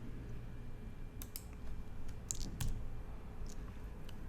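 Scattered keystrokes tap on a computer keyboard, a few quiet, uneven clicks over a low room hum with no voices.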